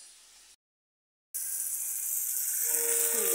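Onions and spices sauté in a pan, a soft steady hiss that cuts out briefly, then returns as a brighter, louder sizzle that continues to the end.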